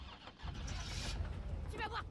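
A car engine cranking and then stalling in the video game Resident Evil 3, a rough sputtering rumble heard under excited talking.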